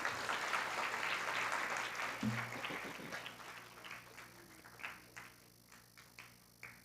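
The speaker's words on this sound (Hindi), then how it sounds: "ताली बजाएं इन सब के लिए" An audience at a spiritual gathering applauds, a dense burst of clapping that gradually thins out into a few scattered, separate claps near the end.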